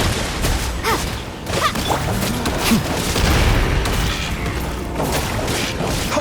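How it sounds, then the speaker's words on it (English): Loud, dense run of booming explosions and crashing impacts from bombs going off in Genshin Impact, with whooshing bursts between blasts over a constant heavy rumble. "Bombs away!"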